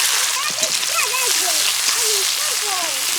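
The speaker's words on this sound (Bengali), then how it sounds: "তেল গরম হয়ে গেছে। এবার দিয়ে দেবো পেঁয়াজ।" Onions frying in hot oil as the base for a rui fish curry with cauliflower, giving a steady, close, dense sizzling hiss throughout, with a voice talking over it.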